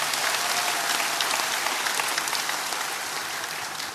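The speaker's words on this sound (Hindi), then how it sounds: "जोरदार ताली बजा के धन्यवाद दो इस बच्चे को।" Loud, sustained applause from a large audience at a religious stage gathering, with dense clapping that holds steady and fades slightly toward the end, with no speech over it.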